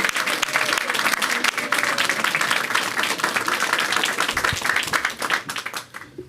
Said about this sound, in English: give your neighbor a round of applause